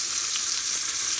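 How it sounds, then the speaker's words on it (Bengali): Onions fry in a pan beside a grass carp fish head dish, giving a brief, close, steady bright sizzle with no talk. "পেঁয়াজ ভাজা হয়ে গেছে"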